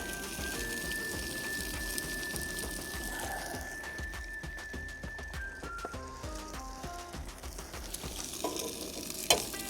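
Eggs sizzle in a pan at a camp cooking setup, a steady crackling fry with scattered pops and a faint sustained whine, close and without talk.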